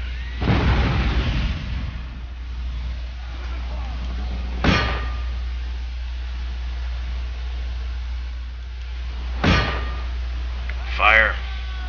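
Cannons boom in an Empire Total War battle, three sharp, widely spaced blasts over a constant low hum, and a voice speaks briefly near the end.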